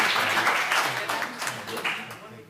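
An audience at a school board meeting claps in a short, dense burst of applause that swells and then tapers over a couple of seconds.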